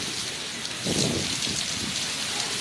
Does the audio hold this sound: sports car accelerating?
no